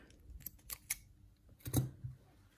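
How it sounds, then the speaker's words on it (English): Scissors snip crochet yarn in a few quick, close, crisp cuts in a quiet room, then a louder snip-and-rustle near the end. "I'm gonna cut the yarn off"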